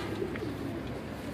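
Pet breeding pigeons cooing nearby, soft low coos over a faint background hum, with no voices.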